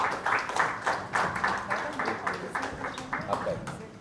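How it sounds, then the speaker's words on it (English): An audience at a conference session gives a panel a round of applause: dense, fairly faint clapping from a crowd, heard at a distance and sustained throughout. "big round of applause, please"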